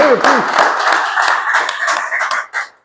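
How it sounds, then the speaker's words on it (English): Audience applause at an open mic event, a dense patter of hand claps fading toward the end, with a voice heard briefly at the start. "Thank you guys for the clapping."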